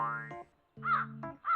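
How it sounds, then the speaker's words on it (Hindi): A crow caws loudly and close by, two harsh nasal calls with a short silence between them, and nothing else around. "ये देख कौवा भी कह रहा है।"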